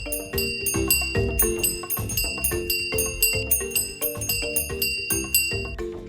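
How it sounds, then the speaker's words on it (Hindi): Bells ring in a rapid, repeating pattern of bright metallic strikes with long shimmering overtones, loud and continuous over a rhythmic low pulse, with no voices. "ये घंटी यूं ही नहीं बजती मंत्री पुत्र, संकेत देती है, विपत्ति का संकेत।"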